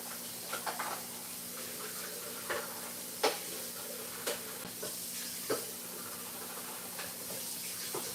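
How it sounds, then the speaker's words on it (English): Running water rinsing out a plant pot, a steady hiss of flow with small splashes and clunks of the pot scattered throughout, close by and with no talk. "Let's just rinse this out."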